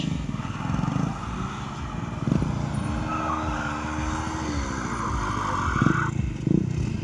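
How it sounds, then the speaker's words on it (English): Sustained engine roar of a motorcycle doing a standing burnout at an outdoor gymkhana stunt show, a steady loud drone with shifting revs and a rising whine, crowd noise underneath. "That's the standing burnout happening."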